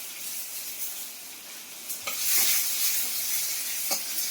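Bay leaf and dried red chilies with five-spice seeds frying in hot oil in a pan, a steady sizzle that swells after a brief stir, with light scraping as the pan is stirred.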